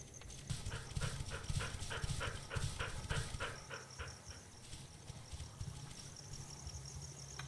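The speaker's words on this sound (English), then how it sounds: "Hear those crickets." A steady chorus of crickets chirps in a regular pulsing rhythm in the video game Lost and Hound, with a louder pattern of repeated thumps or steps early on and fainter chirping behind it.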